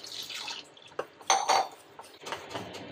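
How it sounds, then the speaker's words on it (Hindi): Water is poured into a bowl of curd and gram flour batter for kadhi in a home kitchen, a short splash and trickle with a few soft clinks of a utensil against the bowl, quiet and close. "थोड़ा पानी डालेंगे।"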